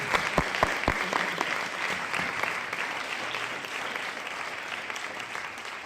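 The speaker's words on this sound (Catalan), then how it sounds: "jo demanaria un aplaudiment a tots vosaltres per tot el que esteu fent" An audience at a post-performance school theatre discussion claps together, a dense burst of applause with a few sharp early claps, gradually thinning out as it continues.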